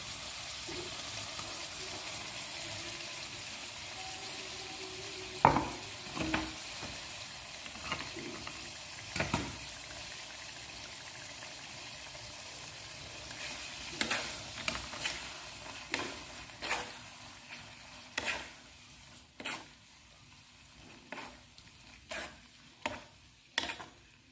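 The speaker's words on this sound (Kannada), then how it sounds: "ನಾವೇನು ಉಳ್ಳಾಗಡ್ಡಿ, ಟೊಮೆಟೊ, ಕೊತ್ತಂಬರಿ, ಬೆಳ್ಳುಳ್ಳಿ ಅದೆಲ್ಲ ಹಾಕಿ ಗೋಡಂಬಿ ಎಲ್ಲ ಹಾಕಿ ರುಬ್ಕೊಂಡಿದ್ದೈತಲ್ರಿ ಮಸಾಲೆ, ಇದಕ್ಕೆ ಹಾಕ್ಕೊಂಬಿಡೋಣ" A ground masala of onion, tomato, coriander, garlic and cashew sizzles steadily in a pan for a mushroom curry, with a soft continuous frying hiss close by and sharp scraping or stirring clicks scattered through it.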